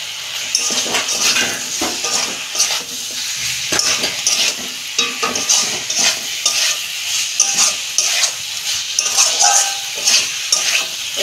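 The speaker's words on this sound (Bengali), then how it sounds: "দেখুন বন্ধুরা মশলা আমার কষানো হয়ে গেছে, আমি সবজিগুলো দিয়ে দিচ্ছি।" Mixed vegetables get stirred into a fried spice paste in a pan for a fish curry, producing a loud, continuous sizzle with busy metal scraping and clanking of a spatula against the pot throughout, without any voices.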